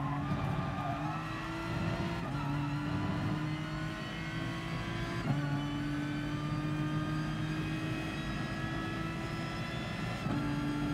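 An Aston Martin race car at Monza in GT Sport revs hard, its engine note climbing and then dropping at each early upshift, repeating steadily under a continuous roar with faint tire noise.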